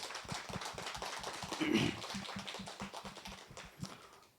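A church congregation at a Wednesday worship service claps in welcome, a steady, fairly quiet patter of many hands with a faint swell midway.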